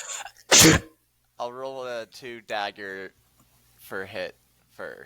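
One sharp, loud sneeze bursts out near the start of a tabletop role-playing game session, followed by several people talking.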